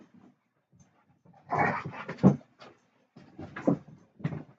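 A dog pants and snuffles close by in a quiet room, a few short breathy bursts with a pause between, a faint knock underneath.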